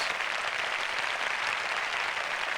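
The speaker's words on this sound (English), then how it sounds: "A second later, we were engulfed in thunderous applause." A concert audience breaks into thunderous applause, a dense, steady wash of clapping at constant loudness throughout, close and unbroken, with no voices standing out.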